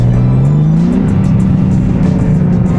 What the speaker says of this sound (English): Now, I'm not sure how well you guys can hear it, but you're hearing more turbo noises.